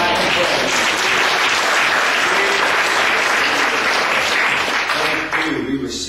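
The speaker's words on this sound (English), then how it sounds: "Give God a hand clap of praise." A church congregation breaks into a hand clap of praise, sustained loud applause from the crowd that fills the room evenly before thinning slightly at the end.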